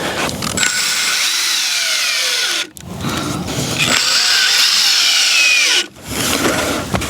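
A power drill drives smaller screws into wooden boards of a raised garden bed, whining loudly in two long runs with a short stop between them.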